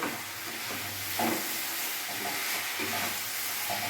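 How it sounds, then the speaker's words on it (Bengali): Fried potatoes get stirred into a spice mixture in a pan, a steady hissing sizzle with a few soft scrapes of a spoon, close and even throughout without talking. "এবার যে আলুগুলো আমি ভেজে রেখেছিলাম ওইগুলো আমি দিয়ে দিলাম। এবার এটার সাথে আমি ভালোভাবে নাড়বো।"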